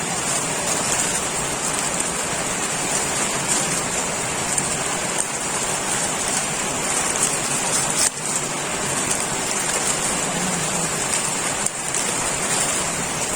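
Heavy rain pours steadily with a dense, continuous hiss and patter, loud and unbroken throughout, no voices.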